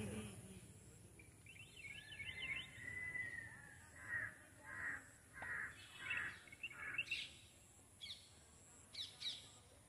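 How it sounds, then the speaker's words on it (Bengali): Crows caw in a repeated series of clear calls near a small park by a pond, with a few other birds chirping faintly in an otherwise quiet setting. "শুধু পাখির ডাক ছাড়া অন্য কিছু শুনতে পাওয়া যাচ্ছে না খুব একটা।"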